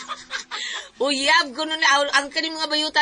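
Chickens cluck and crow loudly and close by in a rural yard, with repeated harmonic squawks running under and between a person speaking.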